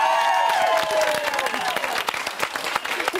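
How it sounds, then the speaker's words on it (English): A studio audience on a Celebrity Big Brother spin-off show breaks into applause, crowd clapping rising under a lingering tonal sound at first, then continuing as brisk, dense clapping to the end. "So give them a round of applause."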